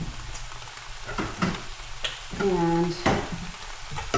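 Eggs and turkey bacon fry in a pan, giving a continuous close crackling sizzle with some stirring and scraping. A voice speaks briefly over it.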